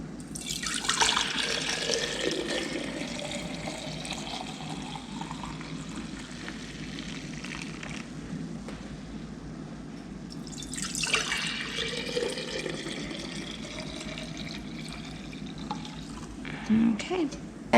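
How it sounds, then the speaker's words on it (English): Milk is poured into washed glass jars while making cream top yogurt, giving a steady liquid stream with two rising-pitch pours as each jar fills, and a voice speaks quietly underneath. "I'm going to go ahead and pour it into the jars."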